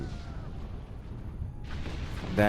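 Two nukes launching and detonating in a strategy video game: a low continuous rumbling roar that swells into a second, brighter blast, ending in a short burst of pops, steady and moderately loud.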